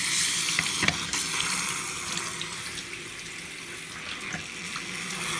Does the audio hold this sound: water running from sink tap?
yes